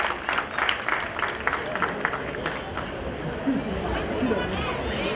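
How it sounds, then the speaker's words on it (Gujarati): A crowd claps steadily to welcome a guest at a community event in Mumbai, the applause continuous and fairly close, mixed with background chatter and murmuring. "તો આપણે તાળીઓથી એનું સ્વાગત કરીએ"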